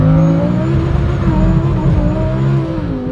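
A Lamborghini engine roars loud and close during a launch, its pitch climbing and holding as the car accelerates hard.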